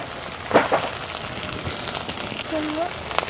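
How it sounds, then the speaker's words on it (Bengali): Tomato with ginger and green chili paste fries in a pan for a vegetarian pea and gram flour curry, making a soft, continuous sizzle broken by a few scraping stirs and clatters. "টমেটোর সাথে আদা কাঁচা লঙ্কাটা একটু ভেজে নিই।"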